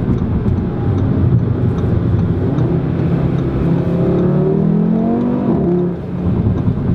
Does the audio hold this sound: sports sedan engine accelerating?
yes